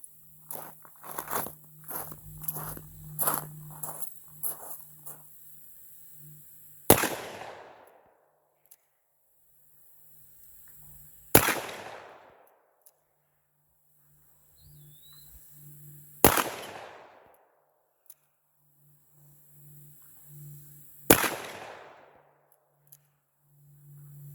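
Four loud, sharp gunshots from a Smith & Wesson heavy-frame .357 Magnum pistol loaded with standard primers, fired at a target from about 15 yards at evenly spaced intervals. Each shot has a ringing tail, and softer handling clatter comes before the first.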